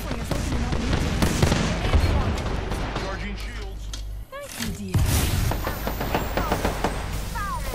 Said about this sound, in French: comment elle m'a touché cette grenade?